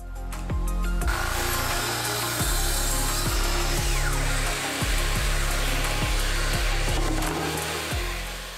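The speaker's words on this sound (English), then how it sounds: "secondly, just to cut a piece of melamine face chipboard" A Festool TS55 plunge track saw cuts melamine-faced chipboard with a loud, steady whining roar, and a faint rhythmic ticking runs underneath throughout the cut.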